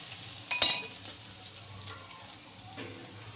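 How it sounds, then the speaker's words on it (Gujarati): Garlic paste sautés in a pan with a soft, steady sizzle, broken by one sharp metallic clink of a utensil early on and a faint scrape later, close and quiet. "પેસ્ટને સરખી રીતે આપણે સાંતળી લેશું"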